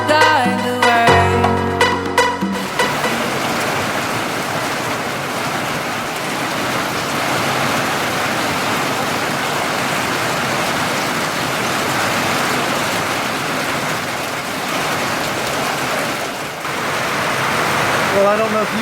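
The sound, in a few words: heavy rain pouring outside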